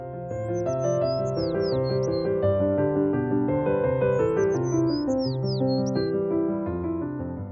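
Sparrows chirp in short, high, twittering bursts, heard twice over a loud, continuous bed of music that dominates the sound.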